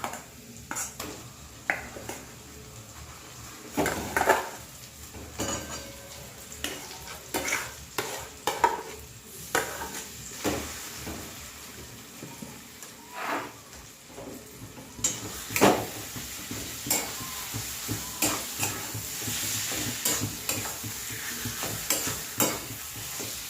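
Potato filling with chopped green chili fries in oil for stuffed flatbread (alur porota). A spatula scrapes and taps the pan in many close, irregular strokes over a constant sizzle, with no voices.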